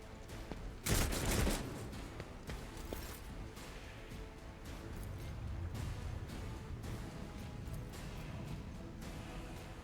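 Gunfire erupts in a Warhammer 40K Rogue Trader video game battle, a sudden loud burst of shots followed by a continuous crackling, rumbling barrage of combat noise.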